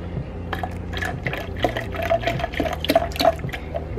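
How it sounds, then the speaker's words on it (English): Coconut water and aloe water pour and splash into a container in a continuous stream, with small glugs and drips, close by and moderately loud. "I'm just going to dump the coconut and aloe water in there"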